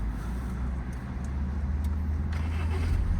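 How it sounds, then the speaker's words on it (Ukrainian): A 2015 Audi A6 engine idles steadily with a low, continuous hum, close by and fairly quiet throughout. "заводиться автомобіль справно"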